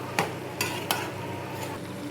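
Mushroom pepper dry being stirred in a pan, three or four distinct scraping strokes of a spoon over a constant soft sizzle.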